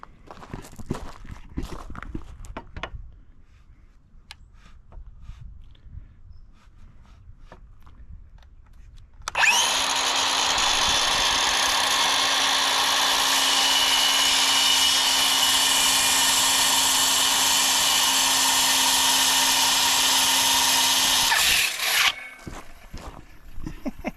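A power saw cuts through stacked plywood clamped over a plywood table: a loud, steady whine runs for about twelve seconds after quieter handling sounds, then stops abruptly, followed by faint shuffling.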